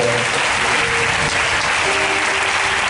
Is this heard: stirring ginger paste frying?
no